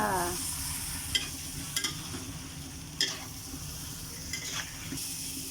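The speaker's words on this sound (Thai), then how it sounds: "ลูกชิ้นปลา ผัดให้หอมๆ ค่ะ" Fish balls stir-fried in a pan on a home stove give a steady, fairly quiet sizzle, with a few sharp clinks of the utensil against the pan.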